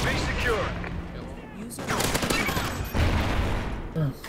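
Gunfire from the Honey Badger rifle with its built-in silencer in Call of Duty Ghosts, several bursts of rapid shots with talk mixed in over a busy game soundscape.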